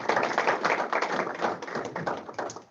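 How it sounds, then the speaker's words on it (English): A small crowd at a district program meeting gives brief, light applause, scattered claps tapping quickly for a couple of seconds before fading. "I think that deserves a round of applause"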